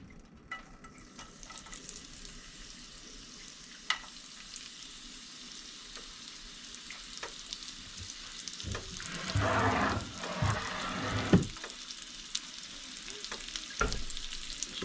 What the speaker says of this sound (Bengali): প্রথমে আমি পেঁয়াজগুলো দিয়ে নিচ্ছি।